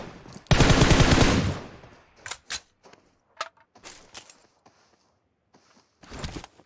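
A long burst of automatic gunfire sprayed upward in the PUBG video game, loud rapid rattling for about a second, followed by scattered short single shots and small bursts separated by quiet gaps.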